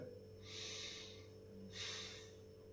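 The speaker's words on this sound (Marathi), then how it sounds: "लांब श्वास घ्यायचा आहे" A person takes slow, deep yoga breaths: two long airy breaths, close and very quiet, separated by a short pause.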